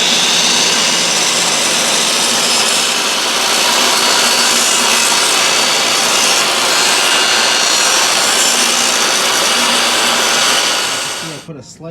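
Power tool slicing into wood to gouge out a corner for a hidden under-counter L bracket, a loud continuous whine running steadily throughout before cutting off abruptly at the end.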